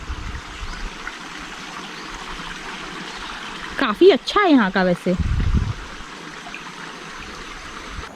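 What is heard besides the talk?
water of Sweet Water Lake flowing past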